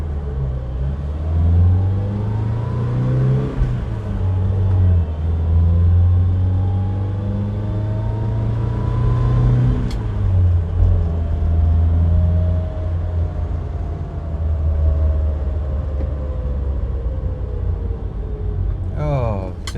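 Mazda 1000 or 323 (BF) car on a road test, the engine's low rumble rising and falling steadily through the cabin as it accelerates and shifts, with people talking over it.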